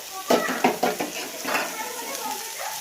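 Garlic and ginger paste goes into lotte fish frying in a pan: a few sharp spatula scrapes and clinks in the first second, then a softer stirred sizzle.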